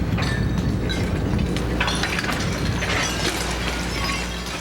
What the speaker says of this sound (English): falling glass sounded like frightening wind chimes hitting the ground